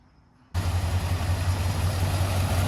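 After a brief quiet moment, a Chevrolet El Camino fitted with Jegs long-tube headers and a newly connected exhaust fires up on its first crank and settles into a steady, deep, rumbling idle close by.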